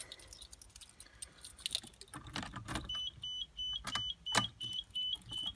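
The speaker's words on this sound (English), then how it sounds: "Power's on. Pump's priming" A fuel pump priming in an R32 Nissan Skyline GTR, a faint, steady electric whine that starts midway and holds, mixed with close clicks and small knocks inside the car, with no talking.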